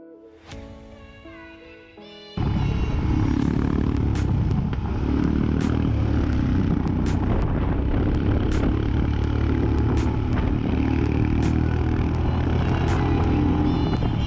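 Royal Enfield motorcycle riding on a bright open road in Northeast India, a loud steady engine drone with wind rush that kicks in after a brief quieter stretch and holds close throughout.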